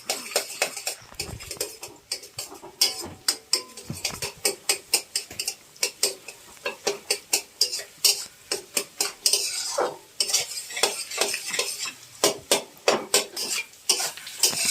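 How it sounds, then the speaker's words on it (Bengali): Beaten egg scrambled and fried in a pan for restaurant-style mixed fried rice, with a utensil scraping and stirring in quick, rhythmic strokes over a soft sizzle, close and fairly loud throughout. "ডিমটাকে সুন্দরভাবে আমি ঝুড়ো ঝুড়ো করে ভেজে নেব"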